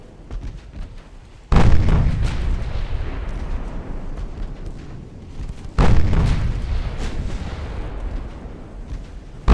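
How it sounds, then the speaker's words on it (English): Secondary and casemate guns on a warship in the naval game Ultimate Admiral Dreadnoughts fire two loud, booming salvos several seconds apart, each followed by a long rumbling decay, with a third shot starting at the very end. "The sound of these secondaries and casemate guns."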